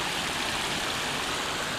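Water runs steadily in a garden water feature, a continuous close splashing rush with no pauses or variation across the whole span.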